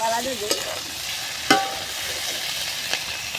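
Vegetables stirred and fried in a pan, a steady sizzle broken by a few sharp scrapes of the spoon against the pan, with no talking.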